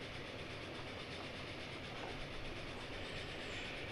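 A train running in the video game Transport Fever 2, a steady, moderately quiet rolling rumble with faint rhythmic wheel clatter, continuous and without talk.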